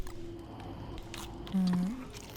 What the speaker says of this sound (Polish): Zjedzmy trochę jagód.